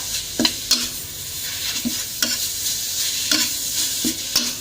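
Frog pieces with sour bamboo shoots and curry paste stir-fried in a hot pan, a steady sizzle broken by regular scraping strokes of a spatula about every half second, with no one speaking.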